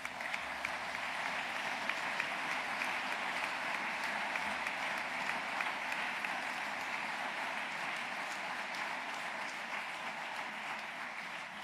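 Steady, sustained applause from an audience at a French secularism award ceremony, a dense, even wash of clapping filling the whole stretch with no talk over it.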